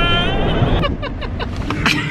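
A Volkswagen Kombi van's engine drones loudly from inside the cabin as it accelerates, a rising engine tone under people talking.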